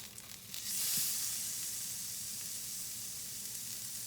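A salmon fillet for spicy honey-glazed salmon is flipped in a hot pan and bursts into a loud, close sizzle that swells, then settles into a steady frying hiss.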